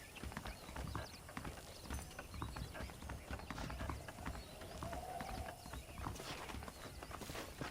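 Horse hooves clip-clop steadily at a walking pace in Red Dead Redemption, a continuous rhythmic clatter of hoofbeats with no talk over it, joined by a brief whinny-like tone midway.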